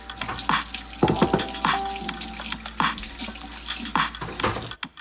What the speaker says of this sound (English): I'm going to go ahead and just give those a quick scrub, rinse them off